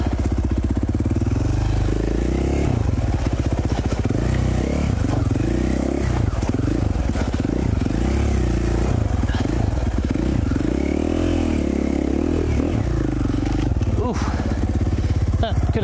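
A 2017 KTM 450 XC-F four-stroke dirt bike is ridden off-road, its loud, constant engine droning and rising and falling with throttle changes, with clattering and scraping over rough ground throughout.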